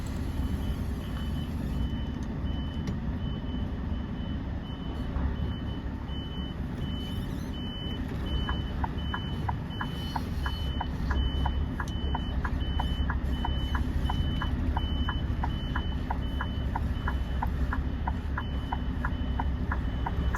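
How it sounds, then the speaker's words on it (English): A big lorry's reversing alarm beeps in a busy freight groupage yard, a long run of evenly spaced, high, clear beeps over a loud rumbling diesel engine and yard noise. "I put my big lorry going backwards beeper on and my hazard light"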